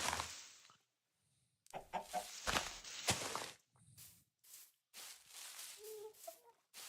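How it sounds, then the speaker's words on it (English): A Minecraft chicken makes odd clucking and squawking noises, close and fairly quiet, in short separate bursts broken by gaps, with soft footsteps between them. "That is a weird chicken noise."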